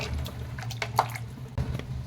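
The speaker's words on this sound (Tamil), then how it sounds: "இது நல்லா கலந்து விட்டுறலாம்." A chicken curry (chicken kuzhambu) mixture with added water is stirred in a pot, producing wet squishing and dripping sloshes in a few uneven strokes, close and moderately loud, without speech.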